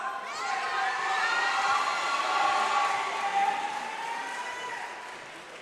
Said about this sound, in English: How about one more round of applause for the class of 2023?